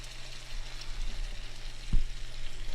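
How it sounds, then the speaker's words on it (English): Flour gravy stirred in pork chop grease in a pan, a steady close sizzle and hiss with soft scraping strokes and one dull knock partway through. "And I'm just going to keep stirring it, mixing it."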